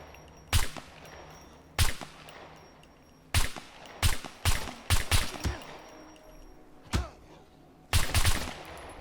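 Pistol rounds firing in a video game, heard as sharp reports spaced irregularly, some single and some in quick clusters of two or three, crisp and fairly close with quiet game ambience between.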